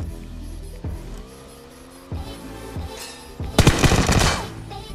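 Gunfire in the battle-royale video game PUBG: Battlegrounds, with short sharp shots early on, then a loud rapid burst of automatic fire near the end over a steady game backdrop.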